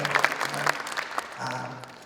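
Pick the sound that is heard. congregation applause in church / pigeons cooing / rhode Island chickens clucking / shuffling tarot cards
congregation applause in church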